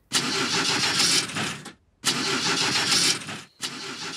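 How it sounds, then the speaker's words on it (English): A cartoon car engine cranks twice in long grinding bursts, stopping between attempts without catching, then a third crank begins; loud and close. "I will now start the engine."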